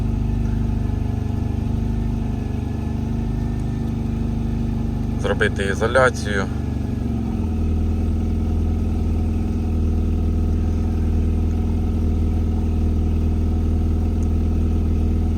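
A car engine running on LPG through a fourth-generation gas injection system idles steadily as it warms up, a close, even low drone with a brief spoken phrase partway through.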